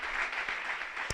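A church congregation applauds during a service, a faint, brief wash of many hands clapping at a distance, steady and unbroken.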